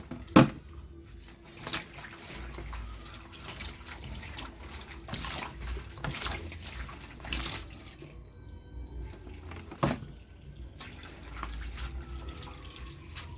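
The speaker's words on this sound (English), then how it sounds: "please ensure that you clean your vegetables before cutting" Water splashes and sloshes in a basin as vegetables are rinsed and stirred, with occasional louder splashes and running-water hiss throughout.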